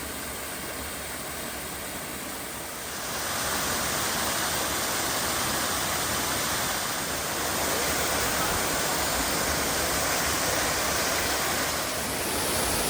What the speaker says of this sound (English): So this is where the spring comes out.